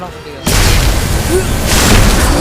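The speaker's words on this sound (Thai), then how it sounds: "เอาระเบิด" A bomb spell detonates in the wizard battle game Magicka: a sudden loud boom breaks in after a quieter moment and leaves a roaring, crackling wash, with excited voices underneath.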